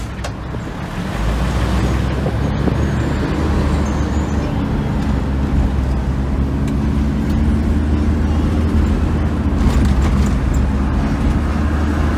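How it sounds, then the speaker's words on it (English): A Jamaican garbage truck driving, steady low engine rumble and road noise held at a constant loud level throughout, nearby and without speech. "That's Jamaica garbage truck."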